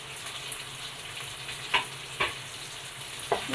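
Thinly sliced onion for a chickpea curry sautés in a pan, giving a steady close frying hiss broken by three brief spoon scrapes, with no talking.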